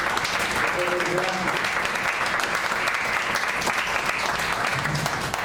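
A church congregation applauds steadily and loudly throughout, a dense wash of clapping hands from many people indoors, with some speech murmuring underneath.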